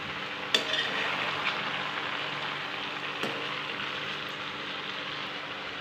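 Mixed vegetables sizzle steadily in a pan, with a continuous soft frying hiss and occasional faint clinks of the stirring utensil against the pan.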